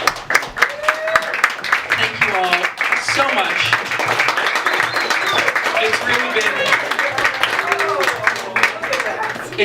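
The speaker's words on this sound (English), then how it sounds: "just one last round of applause" Steady audience applause and cheering at the close of a live literary salon show, with performers gathered on stage, continuing under a speaker's voice and voices calling out.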